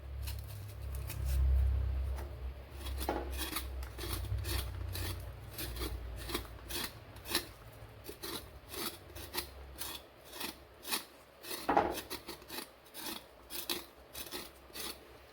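Taro root is scraped clean with a blade, a close series of short rasping strokes that start sparse and quicken into a steady rhythm, with a low rumble underneath early on.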